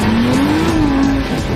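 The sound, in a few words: 4x4 tyres spinning and squealing on a dirt hill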